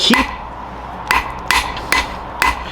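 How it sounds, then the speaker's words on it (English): Close, ringing hammer blows planish a small metal rivet for a spatula, five sharp strikes spaced unevenly about half a second to a second apart, each with a short bright metallic ring. "keep planishing it for no good reason"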